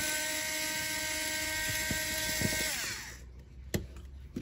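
A powered driver removes the screws from an old Wahl hair clipper housing. A high, steady motor whine runs for about three seconds and then winds down, followed by a few sharp clicks and knocks.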